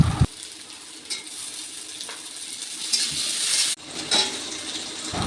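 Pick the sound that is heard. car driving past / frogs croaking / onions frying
onions frying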